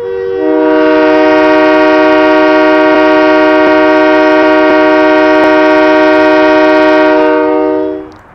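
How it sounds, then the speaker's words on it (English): A 1020 HP Kenworth truck in Euro Truck Simulator 2 sounds its horn in one loud, rich, harmonic blast. The blast is held steadily for about seven seconds and then cuts off. "The actual truck, I guess that's the actual truck horn."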